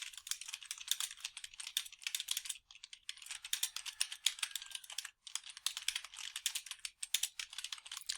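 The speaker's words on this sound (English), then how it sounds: "after I type this out, I'm going to press enter 2 times, and then I'll continue typing everything that is in blue" Quiet, steady typing on a computer keyboard, fast clusters of light key clicks with a few short pauses, alone with no talk.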